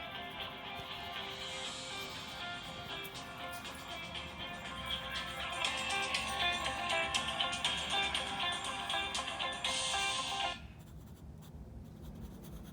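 A phone ringtone plays a steady melodic tune at low volume for about ten seconds, then cuts off abruptly and leaves quiet room tone.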